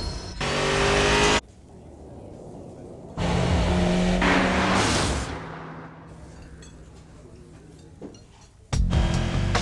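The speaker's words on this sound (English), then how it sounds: "The 210 horsepower, 6-speed Acura RSX Type S. You'll know it when you hear it." Engine of a 210-horsepower six-speed Acura RSX Type S revving hard in loud bursts, separated by quieter stretches and a rising whine, heard close without speech.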